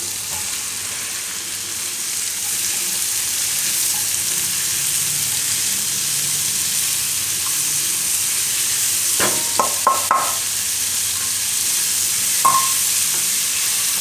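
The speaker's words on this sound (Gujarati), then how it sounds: "થોડીક વાર ફેરવી લેવાનું માખણમાં. હવે એમાં ડુંગળી નાખી દઈશું આપણે, સોરી મરચાં, લીલા મરચાં. અને ડુંગળી." Green chillies and onion frying in butter in a pan for mint pasta, a strong, steady sizzle throughout, with a cluster of sharp spoon clinks on the pan late on and one more after, with no speech.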